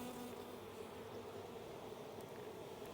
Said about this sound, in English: This one just ain't doing, it's got more bees on that side.